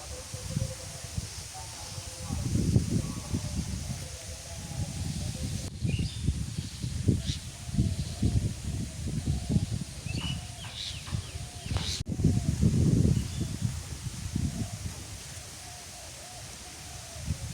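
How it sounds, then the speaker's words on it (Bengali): Wind gusts across a village river bank, buffeting in low rumbling surges for the whole stretch, with faint bird and animal sounds far in the background. "আজকে নদীর পাড়ে বাতাস আছে"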